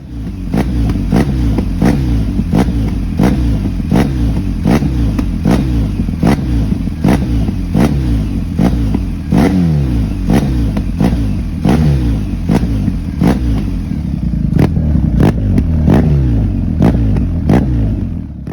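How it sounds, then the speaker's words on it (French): A BMW 1250 GS motorcycle with a modified exhaust and the baffle removed is revved repeatedly, giving a loud, close, rumbling idle punctuated by sharp, regularly spaced throttle blips throughout. "maintenant, on va écouter la ligne modifiée avec le pot sans chicane"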